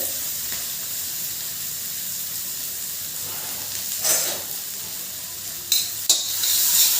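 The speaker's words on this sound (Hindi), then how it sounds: "अब हम इसमें प्याज डाल देंगे, प्याज को फ्राई करेंगे।" Onions frying in a pan give a steady close sizzle throughout, with a few brief scraping stirs partway through and a louder sizzle flare near the end; nobody speaks.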